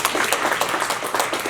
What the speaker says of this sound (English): give a round of applause to these individuals